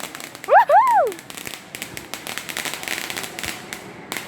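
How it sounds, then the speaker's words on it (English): A firework lit outdoors for Father's Day, opening with a loud rising whistle and then a long run of rapid, scattered crackling pops that continue to the end at moderate volume. "First ever firework."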